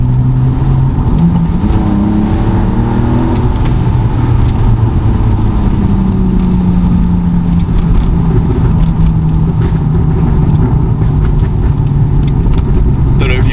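A loud modified BMW E46 engine revs and idles continuously, its deep rumble rising and falling with crackling pops from the exhaust throughout.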